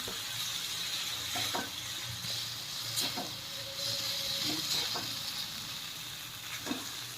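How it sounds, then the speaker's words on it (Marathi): Roasted cowpea leaves sizzle in a hot pan while being stirred, a steady frying hiss broken by several scraping spatula strokes; close and moderately loud, with no talking. "भाजून घेतलेली आता चवळी टाकून घ्यायची आहे व्यवस्थित मिक्स करून घ्यायचं आहे"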